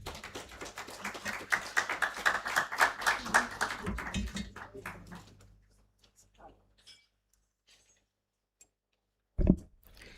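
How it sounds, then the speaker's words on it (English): Audience applause at a graduation ceremony, a modest round of scattered clapping for about four seconds that thins out into silence, followed by a single thump. "Please welcome our speakers with another warm round of applause"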